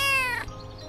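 A cartoon cat gives a single close meow with a drawn-out, falling tone that fades into quiet background.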